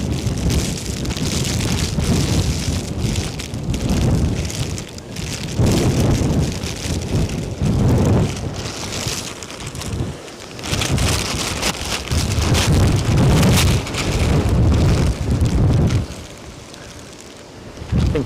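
Gusting wind buffets the microphone at Edinburgh Airport during Storm Floris, with rain mixed in. The roar is loud and continuous, surging in waves and easing briefly near the end.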